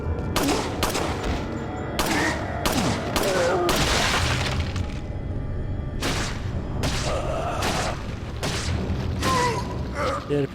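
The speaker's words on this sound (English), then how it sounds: "the pistol shoots plenty quickly enough" Pistol fire in Resident Evil 4, a rapid series of sharp, loud shots in quick bursts with short pauses between groups, accompanied by mechanical clicks of the weapon.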